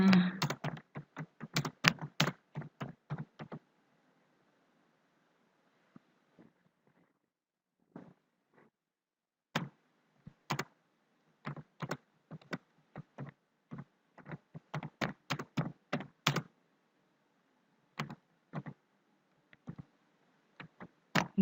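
Typing on a computer keyboard in Word: clusters of crisp, close key clicks arrive in quick bursts separated by quiet pauses, with a few isolated taps in between.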